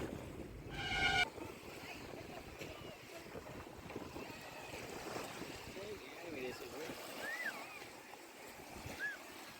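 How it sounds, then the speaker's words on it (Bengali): Water laps and washes in steady waves on a lake while wind buffets the microphone; a few faint distant voices sit underneath. "কত ঢেউ আসছে এখানে"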